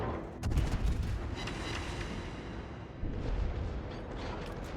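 Battleship main guns firing armor-piercing shells in a naval combat video game, heavy booming salvos with a sharp blast near the start and another around three seconds, rumbling continuously underneath.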